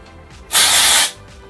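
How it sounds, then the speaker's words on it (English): A single short burst of aerosol volume hair spray hisses close by for about half a second, then stops. "Kind of lift up a bit of the hair, spray a little bit."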